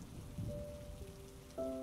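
Steady rain falls through a storm, a broad continuous wash of drops with faint tonal hums drifting underneath, no voices present.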